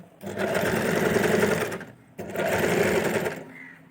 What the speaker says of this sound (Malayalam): അപ്പോൾ നമുക്കതൊന്ന് സ്റ്റിച്ച് ചെയ്തെടുക്കാം